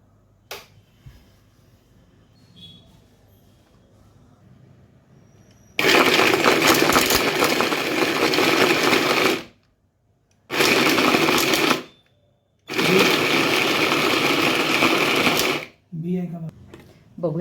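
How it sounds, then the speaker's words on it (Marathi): A mixer grinder grinding coconut and dates whirs loudly in three bursts, pausing briefly between each, with quiet sounds before and after. "आत्ता पहिल्यांदाच मशीन वापरतेय बघूया आपण याच्यामध्ये कसं बारीक होतंय ते"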